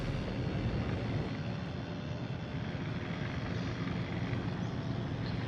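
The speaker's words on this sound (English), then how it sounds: "I've got planes over me" Warplanes in World of Warships drone overhead as a steady, loud, broadband engine roar that lasts the whole stretch without a break.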